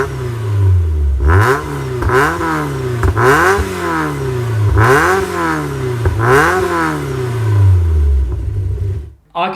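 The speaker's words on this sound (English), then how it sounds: "you can hear ever so slightly that supercharger belt whining" Supercharged Mazda MX-5 NC engine revving repeatedly, pitch sweeping up and falling back in several loud blips, with a faint belt whine riding on top, then cutting off at the end.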